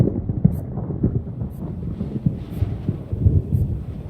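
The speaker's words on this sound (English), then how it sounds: "Although they do make it windy, which is quite cool." Gusty wind in the video game Subnautica rushes and buffets steadily, with low rumbling swells rising and falling and no voices.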